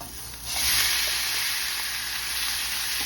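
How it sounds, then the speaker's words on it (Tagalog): Pork pan-searing in a little oil for Bicol Express gives a steady, close hiss that swells about half a second in and then holds fairly even until the end. "Lagyan lang natin ng konting oil para mag-pan-seared na ating pork."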